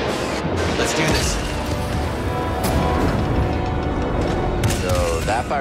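A blaster cannon fires in Star Wars Jedi: Fallen Order amid dense, loud combat noise, with laser blasts, mechanical clatter and shouted voices across the whole stretch.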